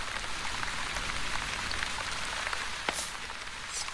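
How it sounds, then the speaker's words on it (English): Light rain falls in a post-apocalyptic city-builder game, a steady soft patter of drops hissing evenly throughout with a few brighter spatters and no voices. "Light rain. Rain falls upon Onbu and raises humidity."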